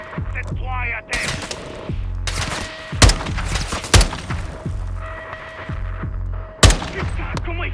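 Enemy snipers firing from a rooftop in Call of Duty Modern Warfare 2, with sharp gunshots cracking at irregular intervals over a low rumbling hum, while soldiers speak French in between.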